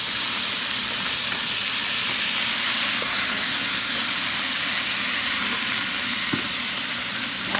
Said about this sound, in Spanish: Ahora le vamos a poner lo que es la salsa.